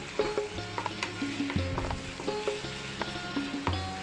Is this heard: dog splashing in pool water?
no